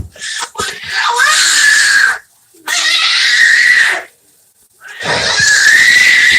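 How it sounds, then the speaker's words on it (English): Loud, shrill screaming and yelling from people in three long sustained bursts separated by brief pauses, close and intense. "cut all that yelling and screaming out"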